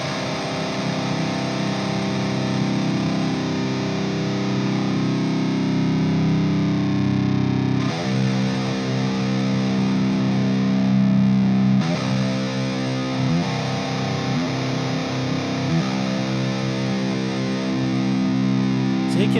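Electric guitar played through a Source Audio EQ2 equalizer pedal with the Q maxed out for a narrow boost, giving a loud, sustained, distorted tone that rings steadily throughout with a few chord changes.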